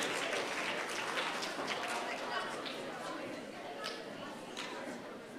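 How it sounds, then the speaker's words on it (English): Applause from a school competition audience, sustained dense clapping with crowd chatter mixed in, steady throughout the stretch. "let's give them a round of applause as they exit"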